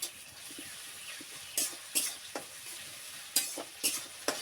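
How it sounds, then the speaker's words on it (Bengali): Chopped onion and garlic sizzle in hot oil and are stirred. A soft hiss is broken by several sharp, close spatula strokes that scrape against the pan in loose pairs. "তেলটা গরম হয়ে গেছে, দিয়ে দিন পেঁয়াজ কুচি,"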